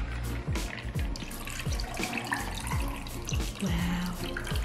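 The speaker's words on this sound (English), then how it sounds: "it has soda in it. Can you not shake soda? I don't think so. Now we're gonna pour it in." Liquid splashes and gurgles as a viral soda drink is poured into a glass close up, a continuous watery stream with bubbling and fizz.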